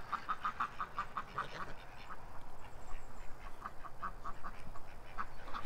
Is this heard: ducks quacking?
yes